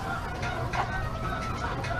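Thousands of chickens packed into a crowded shed, a dense continuous wall of overlapping clucks and calls that fills the space steadily, loud and close with no single bird standing out.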